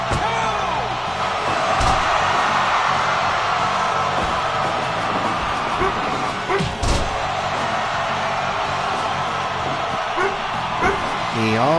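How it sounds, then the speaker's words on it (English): A house dog barks to be let outside, sharp separate barks scattered through a room full of other noise, with a person talking over it. "That's when he decides to bark to go out."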